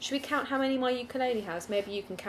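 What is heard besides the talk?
No distinct noise like a dog, phone or traffic.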